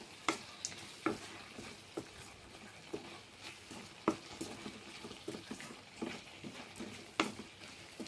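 A tomato, cucumber and dried fish curry is stirred in a pan after chili powder goes in. Repeated spatula scrapes and clinks sound at an irregular rhythm over a low, quiet sizzle, heard close with no voices.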